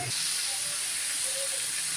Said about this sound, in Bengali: এই যে তরকারিটা এখন কষাই নিতেছি